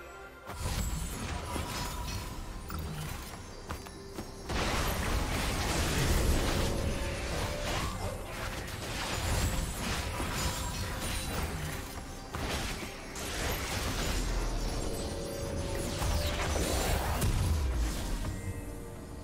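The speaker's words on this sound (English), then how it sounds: "Red team's turret has been destroyed." A turret being destroyed in League of Legends during an Annie and Kai'Sa versus Nautilus and Samira match, with dense layered explosions, bursts and shattering effects over continuous game noise and music.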